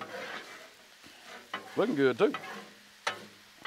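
Taco pasta sizzles on a Blackstone griddle while a spatula stirs and scrapes it in short bursts, and a voice speaks briefly over the cooking.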